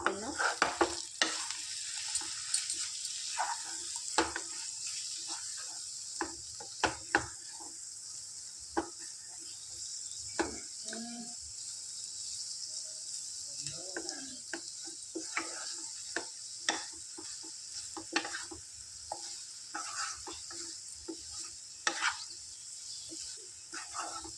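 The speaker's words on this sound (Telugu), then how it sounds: "సిమ్లో పెట్టి కొద్దిసేపు ఉడకనిద్దాం ఫ్రెండ్స్" Ridge gourd egg curry simmers in a pan on low heat, giving a faint, steady sizzle broken by sharp clinks and scrapes of a spoon against the pan, with a dog barking briefly in the background.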